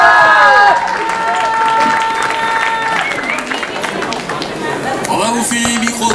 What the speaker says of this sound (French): Allez, un maximum d'applaudissements pour lui.